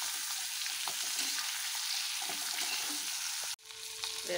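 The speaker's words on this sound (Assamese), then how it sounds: "এখিনি ভাজি লম কঁঠালখিনি" Jackfruit pieces frying in hot oil in a pan, giving a loud steady sizzle that is briefly interrupted near the end and then resumes with a lower hiss.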